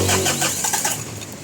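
A Mitsubishi Adventure engine, just after injector nut work, cranking and catching in a short burst of rapid chugging that fades quickly, close by.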